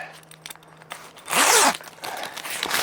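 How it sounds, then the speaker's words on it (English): A large zipper runs along an awning wall panel of a 270 XT awning wall kit, one loud, close rasping zip lasting about half a second, followed by faint rustling handling of the fabric. "Zip it together"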